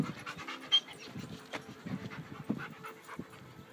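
A dog pants close by in quick, rhythmic breaths, soft and steady with a few slightly louder puffs, and no talking.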